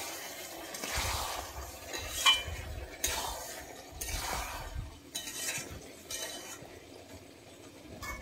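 Kasuri methi and garam masala are stirred in a pan, a utensil scraping in uneven rounds with light clinks against the metal and a faint sizzle underneath, close up.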